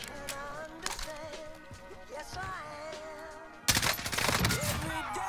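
Gunfire from Call of Duty Warzone, rapid automatic bursts and scattered shots amid game effects, a loud dense volley breaking out near the end, with squad chatter underneath.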